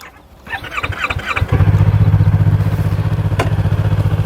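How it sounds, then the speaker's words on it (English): A Yamaha MT-03 motorcycle engine cranks and fires, then settles into a loud, close, steady idle with an even pulsing exhaust rumble, and a brief clatter sounds near the end. "let's check the exhaust note. As you can hear,"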